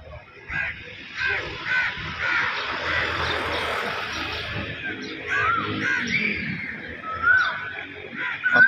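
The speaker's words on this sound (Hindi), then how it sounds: "और ये कोयल की आवाज़ माशाल्लाह" An Asian koel calls repeatedly near a mosque on a main road, its rising notes carrying over steady street noise with some background voices.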